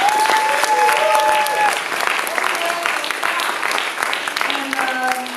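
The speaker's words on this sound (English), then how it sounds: "Please give them a round of applause." Applause from an audience at a CAAMFEST film festival screening, honoring the filmmakers and documentary stars: steady, dense clapping fills the room with cheering voices and chatter mixed in throughout.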